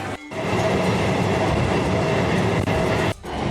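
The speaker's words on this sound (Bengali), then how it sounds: "আমি ট্রেনে উঠে এখন যাত্রা শুরু করলাম" A suburban passenger train travels from Dum Dum toward Kanchrapara. A loud, continuous rumble of wheels and carriages runs throughout, with a couple of brief dips, and there is no talking.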